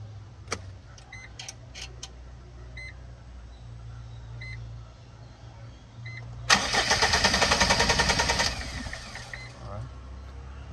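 A Foton Traveller's engine cranks after a fuel filter replacement, with a few short beeps first, then a loud churning crank of about three seconds that dies back to a low idle hum.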